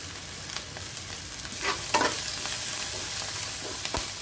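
Thai curry paste stir-fried with sugar in a pan, a steady close sizzle with scattered scraping and stirring clicks from the utensil, no talking.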